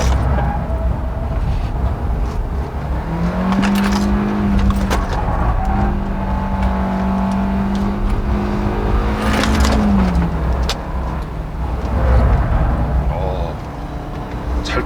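A 2018 Kia K3 being driven hard on a race circuit, its engine droning loudly and climbing in pitch under acceleration before easing off, with someone talking over the cabin noise.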